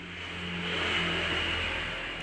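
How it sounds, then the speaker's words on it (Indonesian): A second-generation Honda CRV automatic's engine starts and rises into a steady running hum, close by, its tone swelling slightly then settling, with no talking. "Ini kita coba starter."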